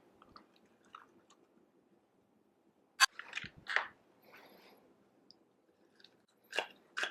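Someone bites and chews a cheese-filled chimichanga, soft crunchy bites and wet chewing coming in a few brief bursts close to the mic, separated by near silence.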